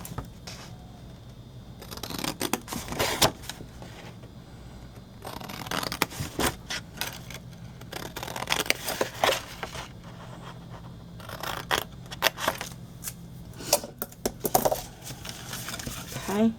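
Scissors cutting lines into paper for a small flip-lid Christmas gift box, heard as several close, short snipping bursts separated by pauses, with quiet handling noise in between.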